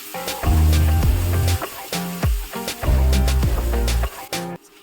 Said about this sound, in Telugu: అల్లం వెల్లుల్లి పేస్ట్ వేసుకొని పచ్చివాసన పోయే వరకు వేయించుకోవాలి